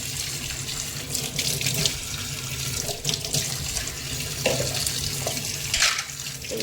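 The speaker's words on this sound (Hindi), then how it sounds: "तो इसके मैगी के बाउल में भी पानी डाल देती हूँ" Tap water runs steadily into a Maggi noodle bowl in a home kitchen sink, a continuous close splashing stream with no talking.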